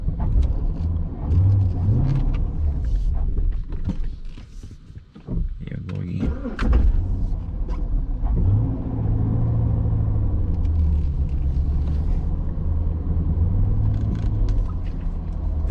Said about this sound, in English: These cars do not like going in reverse up a hill